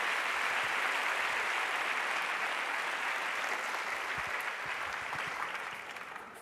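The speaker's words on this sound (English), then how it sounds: "Big round of applause for Mr. Dave Evans." Audience applause for a panelist at a Stanford conference panel discussion, a dense steady clatter of many hands clapping that holds for several seconds and then tapers slightly toward the end.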